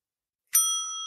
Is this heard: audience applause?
no